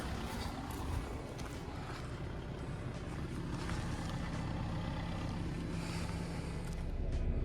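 A Volkswagen Passat B8 with a 2.0 TDI diesel engine and 160,000 km idles steadily, giving a continuous low rumble heard at a moderate distance with faint background noise.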